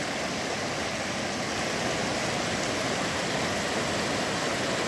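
Muddy floodwater from heavy rains rushes through a swollen creek in the Bahia town of Vanderlei, a loud, steady broadband roar that holds constant throughout with no voices.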